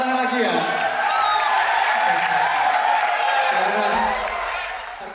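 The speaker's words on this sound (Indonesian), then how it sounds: "Kasih tepuk tangan lagi ya" School event audience clapping in a hall, a dense sustained wash of hands with a voice and some tonal sound underneath, fading toward the end.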